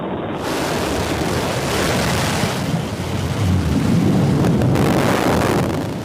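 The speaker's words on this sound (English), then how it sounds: "There's the relight of that BE3 engine." The BE-3 engine on a Blue Origin New Shepard booster relights during descent, a broad, steady rushing roar that swells slightly toward the end.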